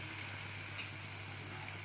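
Boiled and fried potatoes are stir-fried with spice paste in a pan for a spicy dish of spring onion shoots, potato and rohu fish, making a faint, steady sizzling hiss.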